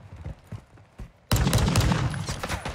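Gunfire erupts in Call of Duty Warzone 2 during a pistol fight, a few scattered distant pops followed by a sudden loud burst of rapid, overlapping shots.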